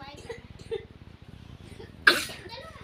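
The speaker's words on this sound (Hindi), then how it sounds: "ऐसे खांस रही है, देख रहा," A child gives a single sharp cough near the microphone, following a stretch of soft murmuring voices.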